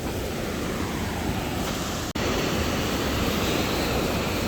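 Steady, loud surf rolls against a seaside cliff near Sydney on an overcast, rainy day, a continuous broadband roar with wind noise and a brief dropout midway.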